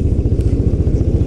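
Rusi Adventure X 150i scooter engine, fitted with 15-gram roller weights, revving up near 2,000 RPM, a close, steady, pulsing low drone with a fast regular throb and no talk.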